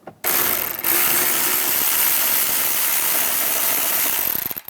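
A socket ratchet with a 10mm socket backs out screws on the mirror mount of a 2007-2013 Chevrolet Silverado 1500, giving a steady, close, continuous clicking that runs almost without pause.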